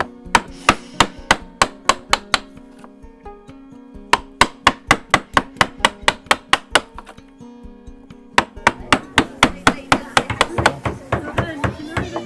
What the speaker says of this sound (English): When we start a cut, we tend to go in more vertically and then tip the chisel down